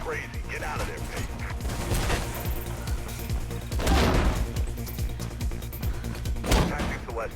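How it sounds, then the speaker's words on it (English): Gunfire in Mirror's Edge, a run of sharp bursts and crashes scattered through dense game sound and music, with louder hits near the middle and end. "I can hear gunshots"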